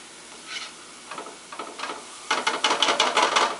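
Snow crab meat heats in a pan and is mixed for crab stuffed mushrooms, soft scraping stir strokes coming at first sparsely, then in a quicker, louder rhythmic run.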